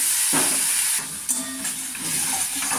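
Potato pieces with spices and curry sauté in a pan, a continuous close sizzle and hiss with occasional scraping stirs.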